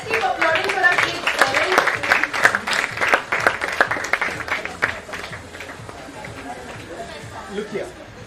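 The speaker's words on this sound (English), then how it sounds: "Let's welcome her with a huge round of applause." Applause and cheering from an audience at a school graduation ceremony, loud close clapping with voices and chatter mixed in, strongest in the first few seconds and then thinning toward the end.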